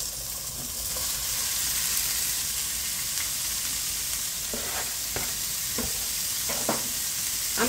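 Ground meat frying in a pan, seasoned with salt, pepper, garlic and onion powder for a budget Mexican dish: a steady close sizzle with scattered crackles and a few stirring scrapes, no voices.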